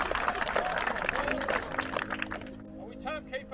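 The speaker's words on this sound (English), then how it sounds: "Just give a round of applause to all our volunteers." Dense applause from a crowd at a Halloween parkrun on the Cinder Track in Whitby, with a lively wash of clapping and cheering that fades out toward the end as voices take over.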